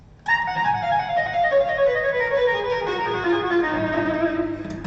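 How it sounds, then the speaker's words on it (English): Electric guitar notes swell in gently one after another, each trailed by a quick slapback echo, ringing on their own. "I use like a slapback echo"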